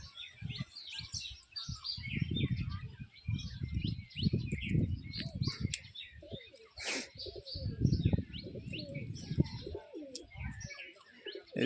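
Pigeons on a rooftop after bathing coo in repeated low, throaty bursts, close and fairly loud, with lighter chirps from other birds scattered in the background.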